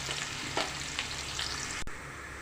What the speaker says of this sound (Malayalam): അപ്പം നമ്മുടെ സവോളനെ നന്നായിട്ട് നമുക്ക് മൊരിച്ചെടുക്കാം.